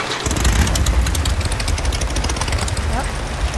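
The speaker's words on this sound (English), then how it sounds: "So this is the motorcycle," Motorcycle engine in the DayZ video game on the Chernarus map, a steady mid-pitched idle and rev with a throaty low rumble, close and continuous, while a person talks over it.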